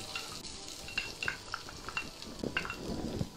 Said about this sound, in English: Now you want to put the finely chopped garlic in.